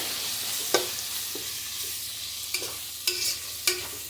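Rice with potatoes, peas and coriander leaves being sautéed in a pan: a soft steady sizzle with a few scattered spatula scrapes and clicks, close and fairly quiet.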